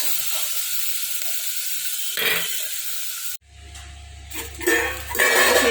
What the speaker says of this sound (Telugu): ఆనియన్స్, చిల్లీస్ కొంచెం మగ్గాలి.